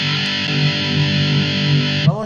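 Electric guitar played through an IK Multimedia AmpliTube X-Drive distortion pedal, a sustained, thick distorted chord ringing steadily and loud, alone, then cut off with a brief pick scrape at the end.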